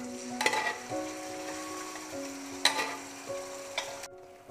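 Cooked duck pieces being stirred into a frying spice masala in a pan, a steady sizzle with a few sharp scraping and clanking strokes of the spoon against the pan.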